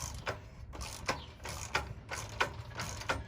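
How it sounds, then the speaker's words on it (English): A ratchet with a 15/16 socket tightens a nut and washer on a torque converter shaft, producing quick, evenly spaced bursts of close, crisp clicks. "We have a nut and a washer. Use a 15/16 socket"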